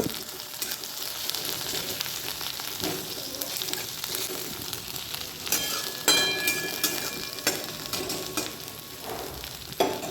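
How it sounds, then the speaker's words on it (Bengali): Sliced onion sizzles steadily in a hot pan on a gas stove in a home kitchen, with occasional stirring scrapes and clinks of a utensil over the continuous frying hiss. "পেঁয়াজটা একটু ভাজা ভাজা হোক"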